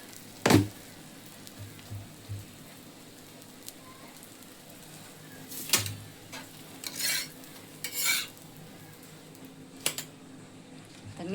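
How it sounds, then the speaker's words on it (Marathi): Two to four chillies frying in a pan give a faint, low sizzle with a few scattered clicks and scrapes of stirring, quiet and intermittent throughout. "तर मिरच्या यात तळते 2-4."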